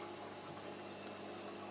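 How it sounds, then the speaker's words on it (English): An aquarium vortex pump pushes water around a fish tank, making a steady, even whooshing hum that runs unbroken and alone throughout. "Because the vortex are pushing the water around a bit"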